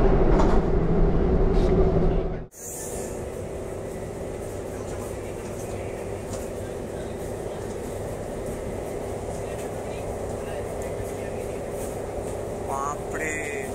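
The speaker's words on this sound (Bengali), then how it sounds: "এত স্পিডে একটা যে মেট্রো চলতে পারে সেটা কিন্তু কোনোদিন আমি জানতেই পারিনি" Interior of a RapidX RRTS metro train running at high speed between Delhi and Meerut, a steady loud rumble and rolling drone throughout after a brief dip near the start, with a faint chime late.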